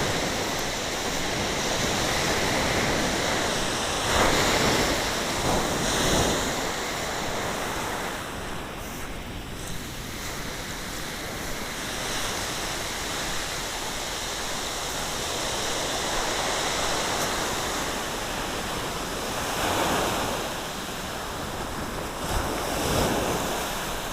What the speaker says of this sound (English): Tide's pulling out.